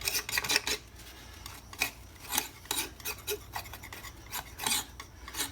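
A palette knife scrapes black and ochre paint across a canvas in an abstract painting, producing repeated rasping strokes of varying length, close and distinct, with no talking.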